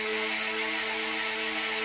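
A compass-controlled model helicopter with fuselage and tail rotor spins its rotor, producing a steady, even whirring hum with a thin high whine, close and unbroken, with no voices.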